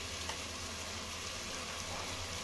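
Tomatoes frying in a pan with turmeric and spices, cooking down to a paste, give a steady, soft broadband sizzle that holds evenly throughout with no one talking.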